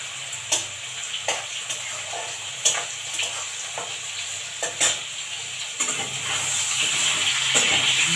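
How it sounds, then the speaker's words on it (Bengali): Onions and potatoes fry side by side in two pans, the onions being browned deep red, giving a steady sizzle with irregular sharp clinks and scrapes of stirring utensils against the pans; no one speaks. "একদিকে আলু ভাজা হচ্ছে আর একদিকে আমার হচ্ছে পেঁয়াজটা ভাজা।"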